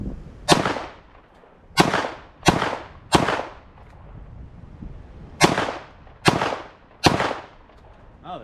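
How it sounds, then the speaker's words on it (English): A 9mm AR-style pistol caliber carbine fires seven loud, sharp, close-range shots in an irregular rhythm, each crack followed by a short decaying echo. "Let's fire it off a couple more times"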